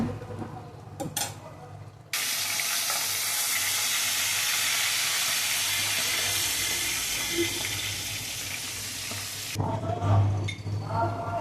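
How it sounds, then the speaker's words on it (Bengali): Fish coated in salt and turmeric frying in hot oil, a loud, even sizzle that holds for about seven seconds between quieter stretches of kitchen noise. "মাছগুলো ভাজা হয়ে গেল ওই তেলে"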